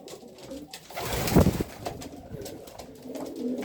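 Homing pigeons coo nearby, a soft low burbling call with rustling and flutters around it, one call rising louder in the middle.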